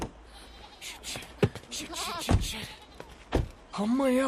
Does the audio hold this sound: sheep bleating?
yes